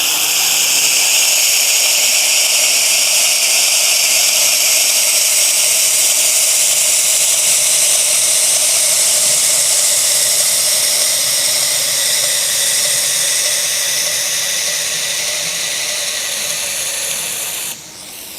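A knife is ground on a 2x72 belt grinder, a loud continuous abrasive whir and hiss held steady for about seventeen seconds before easing off at the end, with no voices over it.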